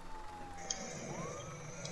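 Police sirens wail faintly in the distance in a video game, a thin rising and falling tone over low background rumble, brief and quiet.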